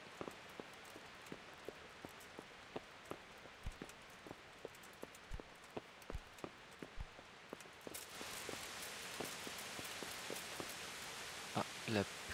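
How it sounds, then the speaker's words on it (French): Rain patters steadily in the medieval world of Kingdom Come: Deliverance, a constant hiss with scattered drop taps, growing denser and louder partway through, with no talk over it. "La pluie tombe."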